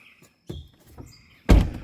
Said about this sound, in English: I want to show you guys how to change out the doors of these trucks